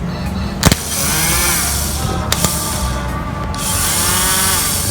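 A Yamaha Mio Soul scooter's starter motor whirs steadily on a bench test, loud and close, with a few sharp clicks and short spin-up surges.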